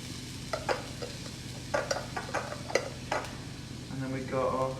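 Garlic and ginger fry and are stirred in a pan, with a soft sizzle beneath a series of close utensil scrapes and clinks against the pan, louder near the end.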